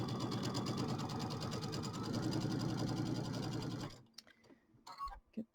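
Sewing machine stitching borders onto fabric, a fast, even mechanical whirr of rapid stitching that runs steadily for about four seconds, then stops, leaving faint handling clicks and soft rustles.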